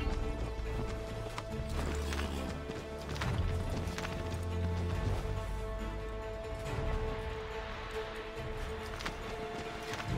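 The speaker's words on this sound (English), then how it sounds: "As much as I love having a horse in this game" A horse gallops in the video game Assassin's Creed III: rhythmic hoof clip-clops pound steadily over layered game music and ambience, with an occasional whinny, continuous and fairly close.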